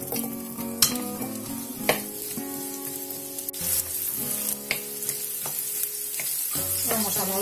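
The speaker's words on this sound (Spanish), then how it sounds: "hemos puesto en nuestra sartén aceite. Vamos a incorporar la cebolla." Onion sizzles steadily in hot oil in a frying pan, a loud, continuous crackle and hiss with occasional utensil clinks and stirring scrapes, no talking.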